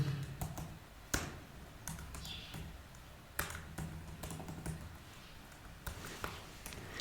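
Code being typed on a computer keyboard, soft close clicks in uneven bursts with a few louder key strikes, punctuated by short pauses.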